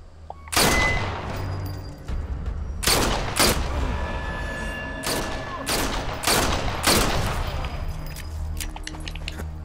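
About seven loud, booming gunshots with heavy echoing tails come from unsuppressed ammunition at Abrunza Monastery in Sniper Elite 4. They arrive singly and in quick pairs across the clip.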